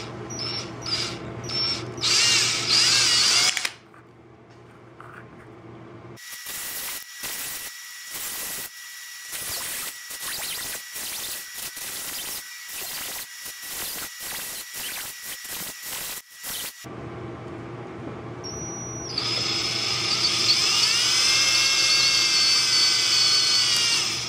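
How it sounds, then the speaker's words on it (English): A power drill bores holes into an aluminum can being made into an alcohol stove, with bursts of high whining drilling broken by short pauses and a rattling buzz, close and loud, with no talking. "drill the holes now. Just don't go in too far."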